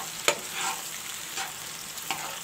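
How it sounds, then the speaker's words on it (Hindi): Salt, garam masala and black pepper are stirred through hot oil in a pan, giving a steady close sizzle broken by several scraping stirs at a slow, irregular rhythm, with no talk. "अब इसको अच्छे तरीके से मिक्स करेंगे तेल के अंदर"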